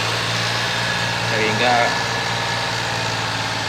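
A car engine idles steadily during a carbon-cleaning tune-up, with a low even hum throughout while someone talks over it.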